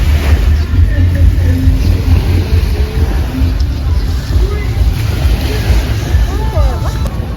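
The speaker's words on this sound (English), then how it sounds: "There is a party boat right there." A party boat's motor drones steadily close by over wind and water noise off a beach in Boracay, Philippines, with faint voices murmuring in the background.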